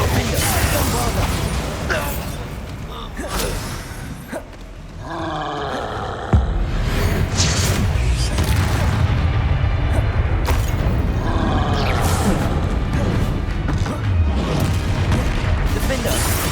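Booming spell blasts and roaring magical impacts from Hogwarts Legacy combat on PS5, loud and dense throughout, with rumbling bursts layered under occasional spoken spell incantations.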